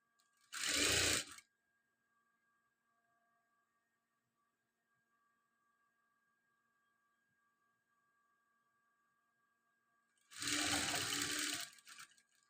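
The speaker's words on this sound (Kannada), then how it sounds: "ಮಾರ್ಕ್ ಹಾಕ್ಕೊಂಡು ಈ ಥರ ಸ್ಟಿಚ್ ಮಾಡಿದ ನಂತರ ಇದನ್ನು ನೀಟಾಗಿ ಸ್ಲೀವ್ಸ್ನ ಅರೇಂಜ್ ಮಾಡಿಕೊಂಡು" A sewing machine stitches chudidar sleeves in two short, loud whirring bursts, one at the start and one near the end, separated by a long near-silent pause.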